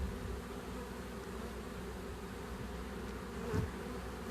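A swarm of bees makes a continuous dense buzz close by, steady throughout with one brief louder pass of a single bee near the end.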